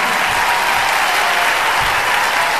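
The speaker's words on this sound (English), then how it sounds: "ladies and gentlemen, Angun, please" Loud, dense applause from the crowd at the 2017 daf BAMA Music Awards ceremony, a continuous roar of clapping filling the hall without letup.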